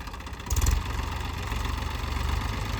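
A tractor engine driving a manure spreader trolley through its PTO, giving a steady low, rumbling idle with a brief surge as the gear engages.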